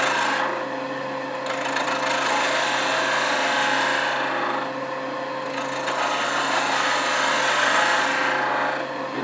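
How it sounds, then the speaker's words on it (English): A 3/8 inch spindle gouge cuts bubinga wood spinning on a lathe, making a loud, continuous close-up shearing hiss over the steady hum of the machine, easing slightly and swelling again. "So let's just use this 3/8 inch spindle gouge."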